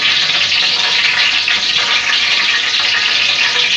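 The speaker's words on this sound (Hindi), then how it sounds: "थोड़ा तेल गर्म हो जाए तो सबसे पहले हम लोग इसके अंदर टमाटर डालेंगे।" Chopped tomatoes hit hot oil in a pan for chicken biryani, setting off a loud, steady sizzle and crackle that continues without a break.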